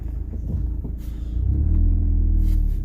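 Lifted Honda CR-V with engine drop spacers idling after a cold start on a chilly morning; a steady low engine rumble that swells slightly after a second and then holds, close and alone.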